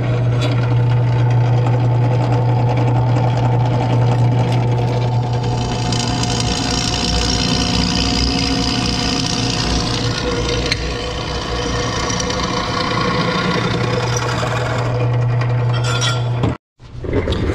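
Continuous arc welding on a steel mount for an oil bypass filter on a 2016 Duramax truck, a steady crackling buzz under a low machine hum, close and loud, cutting off abruptly near the end.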